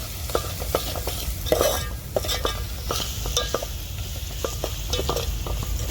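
Masala with garam masala, turmeric and salt stirred in a pan for egg biryani, with steady rhythmic spatula scrapes and taps over a soft continuous sizzle, close and clear.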